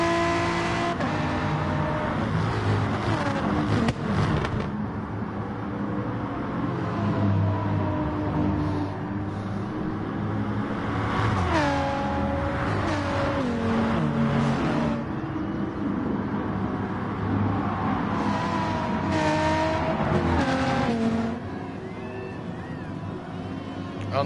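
Pagani GT race cars in a sim racing game at Spa, engines droning and revving continuously with rising and falling pitch through gear changes, loud and close, with a commentator talking over them.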